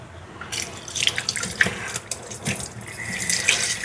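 Running tap water splashes and gurgles over boiled offal in a strainer at a kitchen sink, a close, continuous wash of water with uneven spattering.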